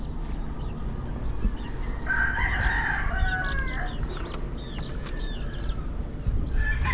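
Gamefowl roosters crow from a backyard breeding coop near a house, several drawn-out calls rising at different moments, some closer and louder, others fainter, over steady outdoor background noise.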